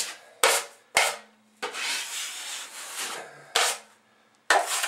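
A drywall knife skims joint compound over a wall to patch a doorknob ding, making close, rasping scrape strokes in separate bursts with short pauses between them. No one speaks.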